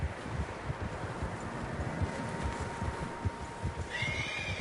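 Horses neigh and whinny in Red Dead Redemption 2 amid a steady windy outdoor rumble, with soft hoof clops and rustling throughout.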